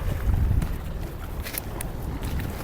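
Strong late-September wind buffets the microphone with a low, blustery roar, steady throughout with a few brief clicks and knocks, while fishing at Pechenihy Reservoir.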